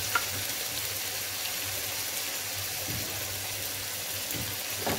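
Chicken pieces frying in a pot with salt and cumin, a low continuous sizzle close by, fairly quiet and even, with faint stirring now and then.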